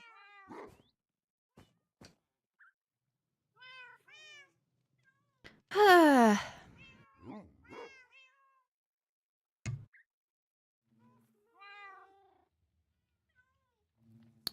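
Cats meow at a farm, with several short, scattered mews separated by silence and one loud, drawn-out meow in the middle. Occasional soft thumps are mixed in.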